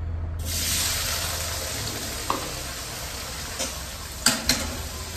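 Small chopped potato pieces drop into hot oil in a kadai and burst into a loud, sustained sizzle that holds steady, broken by a few brief spatters and the scrape of a spatula.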